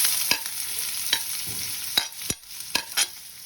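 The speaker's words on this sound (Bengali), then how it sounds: "এবার একে একে এসব উপকরণগুলো দিয়ে ভাজবো।" Chopped onion frying in hot white oil in a pan, a steady sizzle beneath several sharp spatula scrapes and taps while it is stirred, close and fairly loud.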